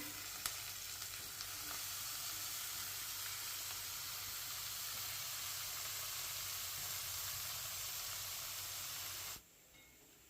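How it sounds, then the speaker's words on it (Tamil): Onions and tomatoes sautéing with banana flower in a pan in a village kitchen, a steady soft sizzle and hiss that runs evenly before cutting off abruptly near the end. "இப்போ வெங்காயம் தக்காளிலாம் போட்டு வதக்கிட்டு வாழைப்பூ போட்டுக்கலாங்க"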